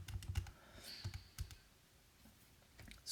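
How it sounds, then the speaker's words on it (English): Keys tapped on a calculator, a quick cluster of close, soft clicks followed by a few spaced presses, then quiet. "Just type this into my calculator."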